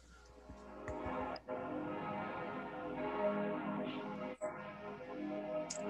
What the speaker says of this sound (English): So you can hear the bells, right? Yeah, we can. It's actually Swiss bells